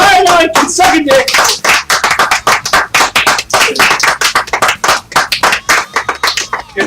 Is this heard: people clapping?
yes